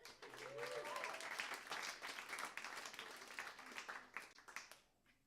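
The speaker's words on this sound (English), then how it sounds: "How about a round of applause for Meltdown and your host Eddie Firth" Audience applause at a comedy roast, a dense burst of clapping that swells quickly, holds steady, then thins out and fades at the end, with a voice briefly audible underneath.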